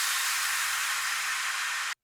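Short future bass crash effect in an electronic music production, a bright washy noise burst that holds steady and then cuts off abruptly after about two seconds.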